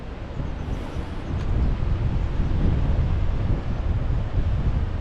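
Strong wind roars steadily across the microphone on a coastal hiking path on the Isle of Skye, a loud, continuous low buffeting that swells after the first second and holds with no speech.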